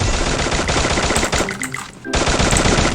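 Dense rapid automatic gunfire from the Free Fire video game, loud and continuous bursts that briefly thin out near the two-second mark before resuming at full intensity.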